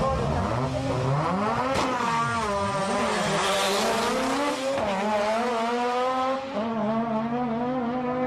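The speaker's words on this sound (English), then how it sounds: "you'll recognise this RX-7 with its T88 34D turbo" Mazda RX-7 with a T88 34D turbo drag racing at Sendai, its engine roaring loud and close with rising and falling revs that sweep steadily through the run.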